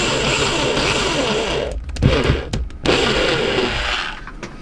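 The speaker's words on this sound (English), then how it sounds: "that's the holes drilled" A power drill bores holes in model railway scenery, a loud close whirring that runs steadily, breaks off briefly at about two seconds for a few clicks and knocks, then resumes before tapering off.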